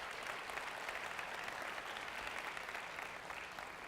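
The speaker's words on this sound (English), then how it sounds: "I think deserves a round of applause." An audience at an APEC SME summit session gives a round of applause, a dense, steady patter of many hands clapping at moderate distance, sustained throughout without voices standing out.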